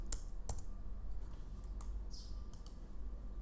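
Keys tapped on a Mac keyboard, a few sharp scattered clicks at close range over a quiet room hum, with no talking.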